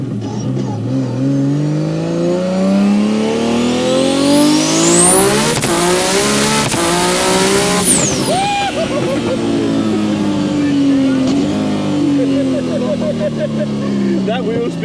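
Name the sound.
1500HP R32 GTR accelerating with wheel spin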